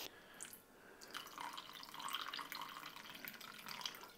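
White wine vinegar pours in a thin trickle for a vinaigrette, a faint close liquid splash and drip with a brief pause early on.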